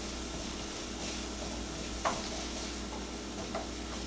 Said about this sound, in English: the onions are cooking and getting translucent